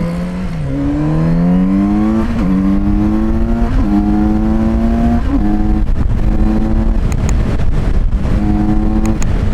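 Kawasaki Z900RS motorcycle accelerating away in first gear, loud engine note climbing through repeated rising pitch sweeps with short throttle dips between them, close and dominant.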